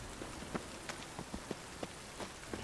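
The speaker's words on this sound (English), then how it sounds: "Rain again. Damn mages." Rain falling in The Witcher 3, a faint steady hiss of raindrops with scattered soft taps and drips spread across the moment, no voices present.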